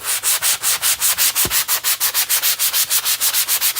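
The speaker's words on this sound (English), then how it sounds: "I'm just taking a sanding block and I'm going to try to really rough it up" A sanding block scrapes back and forth over wood in quick, regular strokes, a loud rasping rhythm close up with no voices.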